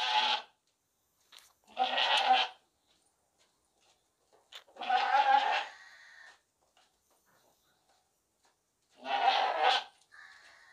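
A large male goat bleating loudly at a livestock market, four drawn-out, wavering calls separated by silent pauses, close and clear.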